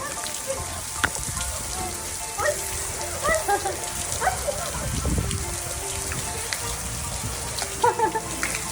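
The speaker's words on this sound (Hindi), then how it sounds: "Oh my God. It's raining." Sudden heavy rain falls outdoors near a river, a steady broadband patter running throughout, with a dog barking now and then and scattered voices in the background.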